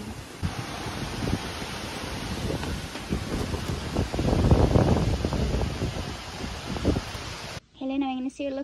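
Strong wind blowing outdoors on a mountain bush walk, a steady rushing roar buffeting the microphone and swelling in gusts, ending in a brief burst of a voice.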